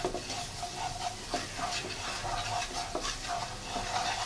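Masala for a green chilli pickle, with dried red chilli powder added, sizzles in a pan while being stirred. The close, steady frying hiss carries through, broken by rhythmic scrapes and stirring strokes, with no talking.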